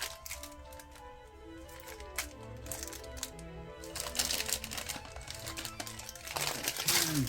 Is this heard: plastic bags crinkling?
yes